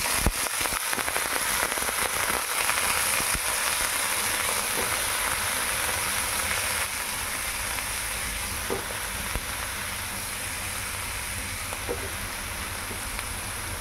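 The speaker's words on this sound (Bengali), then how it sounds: "উচ্ছেটা কড়াইয়ে দিয়ে এবার আমরা এটাকে একটু ভালো করে ভেজে নেব" Cut bitter gourd fries in a wok, a steady loud sizzle with scattered crackles and pops that settles slightly softer over time, no one speaking.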